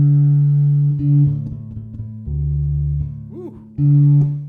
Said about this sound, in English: those of you who don't play the bass, listen to the sound of this pickup